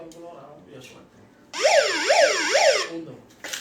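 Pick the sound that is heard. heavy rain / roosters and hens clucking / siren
siren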